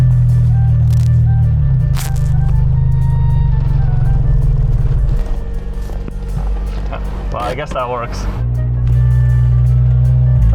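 An old Yugo prototype car rattles loudly while driving, a steady low engine drone with clattering vibration close up inside the cabin, as a person talks over it.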